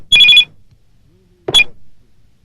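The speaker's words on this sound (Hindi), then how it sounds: "संजय का फोन है।" A telephone rings in a short burst of bright, trilling bell tones, then a second briefer ring follows after a pause, loud and close in a quiet room.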